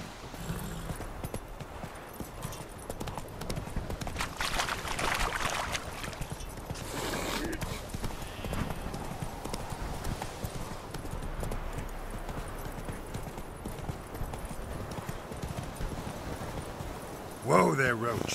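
Roach the horse gallops in The Witcher 3, her hooves clip-clopping in a steady, rapid rhythm at moderate distance, mixed with game ambience and a voice speaking over it.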